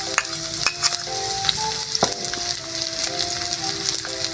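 Onions sautéing in a pan alongside golden-brown fried tofu, a steady close sizzle with scattered crackles and a few sharp utensil clinks against the pan, no talking.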